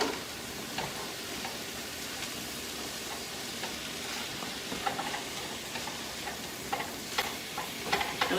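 Mushrooms sautéing in a pan give a steady sizzle and crackle with occasional stirring scrapes, heard alone without talk.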